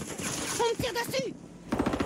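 A short burst of rapid automatic gunfire in Call of Duty Warzone on Rebirth Island crackles near the end, after a stretch where a voice speaks over game noise.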